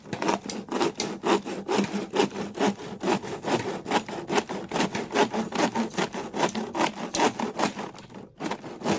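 A hand saw rasps through wood in quick, regular back-and-forth strokes, loud and close, keeping an even rhythm for several seconds with a brief pause near the end.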